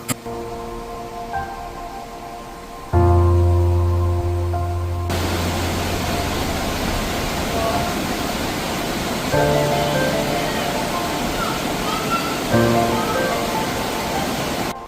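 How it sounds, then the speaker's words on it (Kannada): The swollen Nandini river rushing after heavy rain in a steady, loud roar that continues unbroken throughout. "ನಂದಿನಿ ನದಿ ಅಂತೂ ತುಂಬ ಹರಿದು ಹೋಗ್ತಿತ್ತು."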